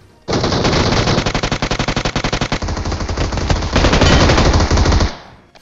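Machine gun cover fire in the BGMI mobile battle royale game: one loud, sustained burst of rapid automatic shots lasting about five seconds, close and heavy, with no talk over it.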